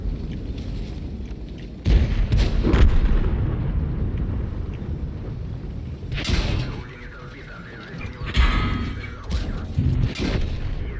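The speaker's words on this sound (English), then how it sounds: "There's so many people shooting at me." Tank cannon fire in World of Tanks, deep booming blasts and rumbling impacts that come in uneven bursts over a steady mechanical engine drone, with the game's effects sounding moderately loud.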